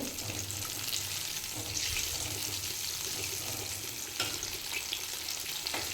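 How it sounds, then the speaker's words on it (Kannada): Chicken popcorn in a seasoned flour coating frying in darkening oil, pieces being turned in the pan: a steady, close bubbling sizzle runs throughout with light stirring scrapes and no talk. "ನೋಡಿ, ಇದು ಒಂದು ಕಡೆ ಫ್ರೈ ಆಗಿದೆ. ಈಗ ತಿರುಗಿಸ್ಕೊತಾ ಇದ್ದೀನಿ."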